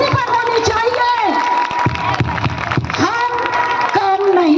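Large crowd at a women's conference in Agra, clapping and cheering loudly and continuously, with shouts and several voices over the applause.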